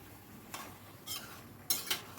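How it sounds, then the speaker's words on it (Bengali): A spoon stirs and scrapes through ash gourd curry in a pan, giving a few soft, brief scraping strokes spaced out over a quiet background with no talking. "দিয়ে আবার সব কিছু ভালো করে মিশিয়ে নিচ্ছি"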